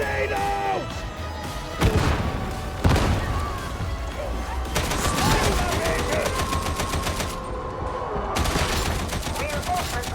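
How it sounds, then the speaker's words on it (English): In Warhammer 40k Darktide, bursts of close autogun fire rattle alongside heavy booming blasts from a grenade and demolition charge, with rapid repeated shots and loud detonations layered throughout, while voices shout in the background. "Grenade out!"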